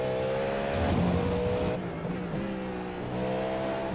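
A race car's engine at full throttle in the iRacing video game during the 12 Hours of Sebring, a loud steady multi-harmonic drone that shifts pitch with gear changes and briefly dips before resuming.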